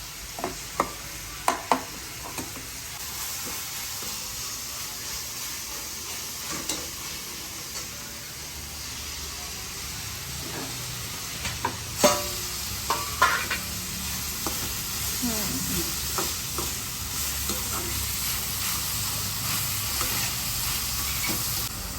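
Dried coconut masala roasting in oil in a pan for Kolhapuri misal gives a steady close sizzle, with a few sharp scraping stirs early on and again near the middle.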